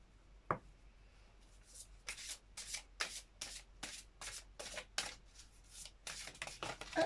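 Gaia oracle cards being shuffled by hand, a quick run of soft riffling bursts in a steady rhythm after a single sharp tap, close and quiet with no talk.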